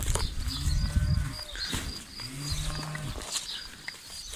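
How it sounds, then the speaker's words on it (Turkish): Cattle moo nearby on a village farm, two long low calls a second apart, over a soft background of other animal sounds. "Bunlar da bizim ineklerimiz."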